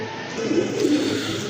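Pigeons of an uncommon colour and breed coo softly, a low murmuring call rising briefly in the middle over a steady background hiss, fairly close, with no one speaking.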